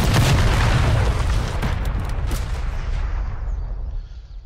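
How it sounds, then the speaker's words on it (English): A napalm strike in a PS5 shooter game rolls out as a massive, sustained roaring explosion with rumbling bursts, slowly fading toward the end. "a napalm comes and gets me"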